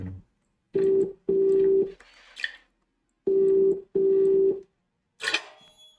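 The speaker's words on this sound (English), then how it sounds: "The phone." A telephone rings inside a horror video game, in two pairs of loud electronic double-rings separated by a short pause, with some faint background noise.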